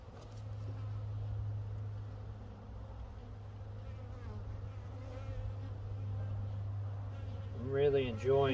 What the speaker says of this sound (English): And the bees are somewhere over here.